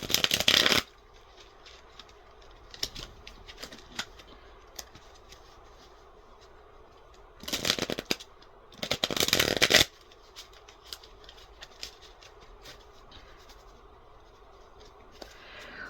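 Tarot cards being shuffled in several quick riffling bursts separated by quieter pauses with light handling noises.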